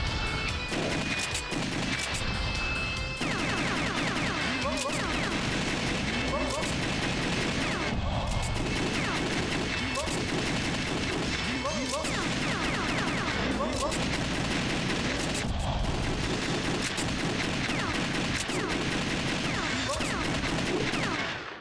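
Rapid gunfire from The House of the Dead 2 rings out in dense, loud, continuous volleys, layered with crashing in-game effects and music throughout.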